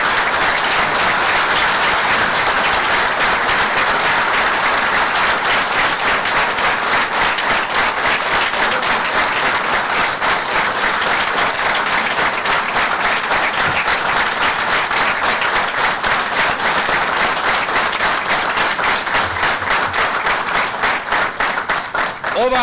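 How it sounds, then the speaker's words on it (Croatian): A large audience in a hall applauds steadily and loudly at a ceremonial academy marking a national independence day, honouring standing generals and decorated veterans, a dense unbroken wash of clapping with voices faintly mixed in. "Ovaj aplauz"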